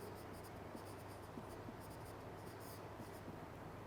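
A pen scratches steadily on paper during an economics lecture, a continuous close scribbling texture over a constant background hiss, with no pauses.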